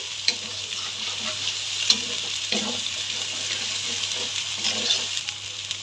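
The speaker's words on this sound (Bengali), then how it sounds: "এখন খুব ভালোভাবে নেড়ে দিচ্ছি যাতে করে তলায় লেগে না যায়" Spice masala with turmeric powder frying in a pan for spinach and meat curry, a continuous sizzle with repeated scraping and stirring taps, a couple of sharper clinks standing out.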